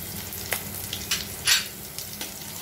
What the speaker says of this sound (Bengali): পেঁয়াজটা দেখুন ভাজা ভাজা হয়ে গেছে